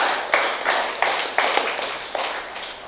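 Audience clapping at a spiritual gathering for Buddha Purnima, heard as a steady run of hand claps with sharper accents every half second or so, close and moderately loud, with no talk over it.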